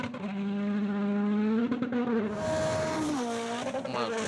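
Rally car engine screaming at high revs and bouncing off the rev limiter, a loud, continuous harmonic whine that stutters and rises again, with a voice briefly audible underneath.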